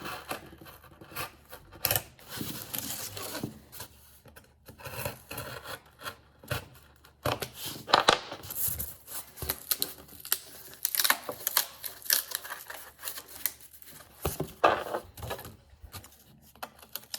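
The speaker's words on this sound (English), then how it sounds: "In cardboard, I prefer an X-Acto blade." A slightly dull old X-Acto blade cuts through cardboard in uneven bursts of scratchy rasping and tearing, close and irregular over a long stretch, with short pauses between strokes.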